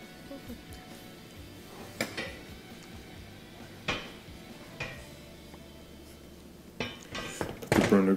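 Heavy metal burner grate of a Wolf gas range set back onto the cooktop, giving a few separate clanks and thunks spread over several seconds, with a louder rattling clatter near the end.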